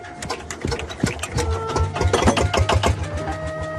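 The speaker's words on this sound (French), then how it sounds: "C'est un moteur à l'ancienne, qui marche avec une manivelle." An old-fashioned engine started with a hand crank runs close by in Brazil, giving off a rapid, rhythmic mechanical clatter and chugging with sharp irregular knocks, loud and alone.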